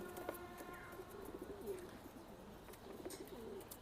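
Soft, low cooing of big racing pigeons repeating close by, faint and murmuring against quiet background noise.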